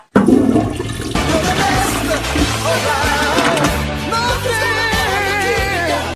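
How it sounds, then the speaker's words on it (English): A toilet in a restroom flushed with a foot on the handle: a loud rushing, gurgling flush that fills the whole stretch, with background music. "So I flush it with my foot and I open the door."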